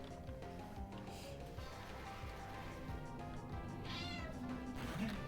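A male cat meows several times indoors, close to the microphone, over a continuous background hum.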